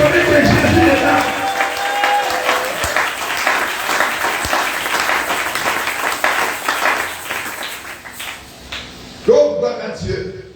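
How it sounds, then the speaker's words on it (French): Church congregation applauding and cheering in acclaim, a dense sustained wash of clapping with raised voices that fades out near the end, followed by a brief burst of speech. "mais donne-lui le mot d'acclamation"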